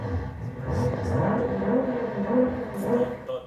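BMW M6 engine revving, played back as a recording in a room, a steady mid-pitched roar rising and falling over several seconds, with some room murmur underneath.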